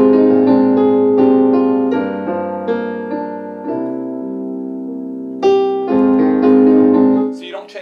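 A chord progression with a dominant chord substituted for a minor seventh, played as sustained chords with clear changes, fairly loud and unaccompanied.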